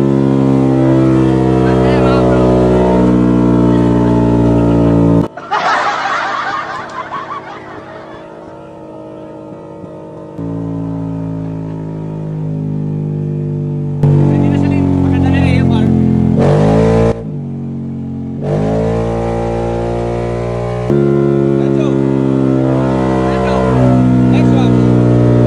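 A Yamaha Xmax 300 scooter engine running lean before tuning, with a loud, close motor note that revs up and settles in blocky steps while a person talks over it.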